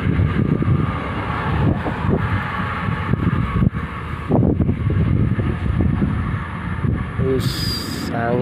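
Strong wind blows hard across a fishing spot, a loud, constant rumbling roar on the microphone with a short higher tone near the end.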